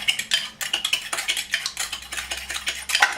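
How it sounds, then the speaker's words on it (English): A fork whisks quickly in a small bowl in a kitchen, giving a steady run of close, bright metallic clicks and scrapes with no voices. "Give it a good old whisk. Just using a fork, small little bowl."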